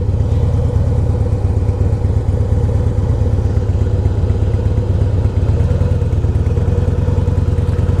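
A 2002 Harley Davidson Heritage Softail engine runs on a test ride, a loud, close, throbbing low rumble with a rapid, even pulse that stays steady for about eight seconds.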